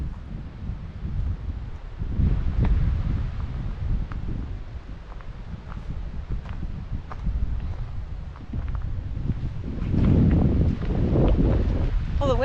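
Wind gusting and rustling through the Tobacco Root Mountains of Montana near an old gold mine, a steady near roar swelling louder toward the end, with faint voices in the background.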